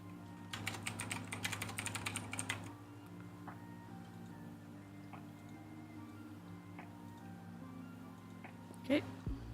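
Someone types on a plug-in computer keyboard in a quick burst of close, rapid key clicks, then a few scattered taps against a steady low hum.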